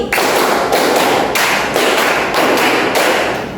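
Rhythmic hand claps from a group playing a counting clap game in a classroom lesson, struck in sharp, even bursts one after another, loud and close with no talk over them.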